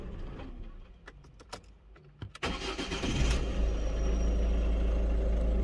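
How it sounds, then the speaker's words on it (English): A Ford Focus Mk2 diesel engine with a blocked particulate filter cranks with a few sharp clicks and whirs, then catches and settles into a loud, steady, low rumbling idle, close by. "start engine now"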